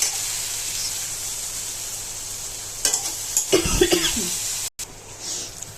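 Fish masala sizzles and fries in a pan with a steady hiss, briefly broken by stirring scrapes and a cough nearby.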